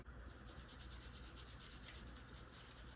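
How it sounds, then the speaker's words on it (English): A shop towel rubbed over firearm parts such as a cartridge interrupter, cartridge stop and slide, giving a soft, steady close scrubbing and rubbing sound, quiet and continuous. "Go ahead and just wipe down all of our parts here."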